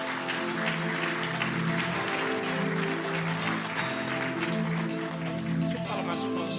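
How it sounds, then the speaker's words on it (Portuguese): An audience at a speakers' panel event for a generator company applauds to welcome a speaker to the stage, with steady clapping heard fairly far off and some voices under it. "Salva de palmas."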